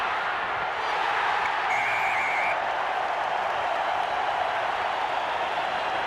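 A rugby crowd at a 1997 Waratahs versus Chiefs match roars and applauds after a Waratahs try, a dense, sustained wash of distant cheering that holds steady throughout, with no clear voices on top.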